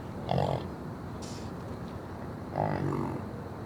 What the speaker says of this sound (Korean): 울음소리도 소와 달리 꿀꿀거리는 특이한 소리를 낸다.